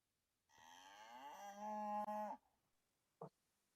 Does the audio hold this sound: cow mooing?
yes